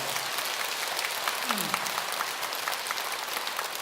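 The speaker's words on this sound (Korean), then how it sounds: "여러분들이 지금 이 박수를 치는 거 보니까" An audience at a Buddhist dharma talk at Jogyesa temple claps steadily, a dense, even wash of applause heard from a distance throughout.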